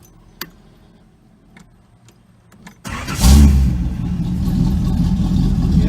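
A Datsun 280Z, just after battery and wiring work, cranks and fires up after a few faint clicks. The engine catches loudly, then settles into a steady, close idle. No one speaks.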